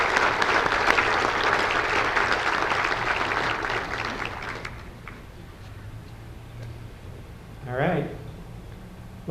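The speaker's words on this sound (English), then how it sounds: "Can you join me in giving these folks a round of applause?" Audience applause at a State of the City address in Boulder City, Nevada: steady, dense clapping for about five seconds, then fading out to a quiet room with a brief murmur near the end.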